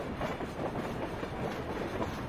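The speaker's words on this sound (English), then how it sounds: "As it moved down the grade, the train picked up speed, reaching a top speed of 65 miles per hour" A freight train of crude oil tank cars speeds downhill on a grade at about 65 miles per hour, a steady, loud rolling roar with faint clickety-clack of wheels throughout.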